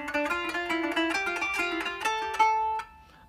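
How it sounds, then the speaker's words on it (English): A kanun plucked with a plectrum in slow, small staccato notes, a stepwise line of about a dozen bright, ringing tones heard up close with no voice over it. "We make slow small staccatos like this."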